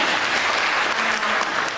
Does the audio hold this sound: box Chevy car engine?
no